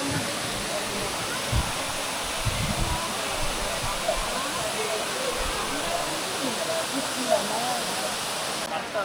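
The old falls at Courtallam run with low flow, giving a steady broad rush of falling water that fills the whole stretch evenly, close and loud, with faint voices scattered underneath.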